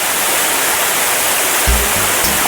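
Bamni Falls at Ajodhya Pahar pours with a steady, loud broadband roar of falling water that fills the whole short stretch without a break.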